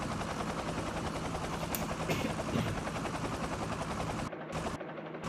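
Drone flying in the Last Day Rules Survival video game, a continuous close buzzing rotor drone with a dense rattling texture that briefly drops out near the end.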